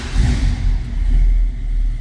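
A 1966 Ford Mustang Fastback 2+2 with a 289 V8 runs close by. It gives a loud, steady, low rumble with slight swells in the revs throughout.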